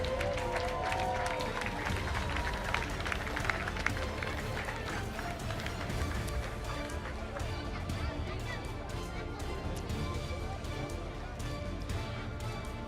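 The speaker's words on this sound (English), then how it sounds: "A round of applause for Ansh Seigel" Crowd applause and cheering at a junior category podium ceremony for an IAME UAE Series karting round, a dense, steady wash of clapping and chatter that runs throughout, with a voice briefly audible near the start.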